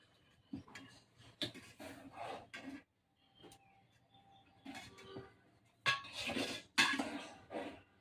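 A spoon scrapes and clinks in a pot as lentils are stirred with cumin and ginger paste, in intermittent strokes with short pauses and no talking.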